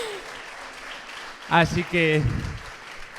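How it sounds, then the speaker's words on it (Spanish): An audience at a neuroscience talk applauds briefly, a faint patter of clapping that fades as a speaker begins talking. "Un aplauso también, ¿no?"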